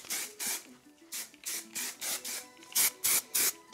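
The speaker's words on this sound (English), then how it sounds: "So now I'm just gonna spray so that this updo stays an updo." Hairspray is sprayed onto a 90s-style updo in about ten short, sharp hissing bursts, close to the microphone, in a quick, uneven rhythm.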